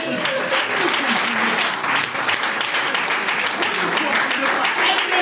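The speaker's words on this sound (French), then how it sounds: "Applaudissez, j'ai dit." Sustained, loud audience applause at a product training session, steady dense clapping filling the whole stretch with voices faintly underneath.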